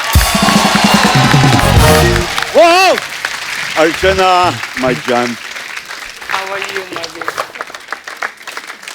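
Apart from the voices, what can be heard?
loud applause for Jackie sir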